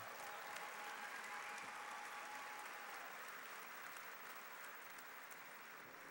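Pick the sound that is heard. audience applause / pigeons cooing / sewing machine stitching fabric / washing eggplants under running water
audience applause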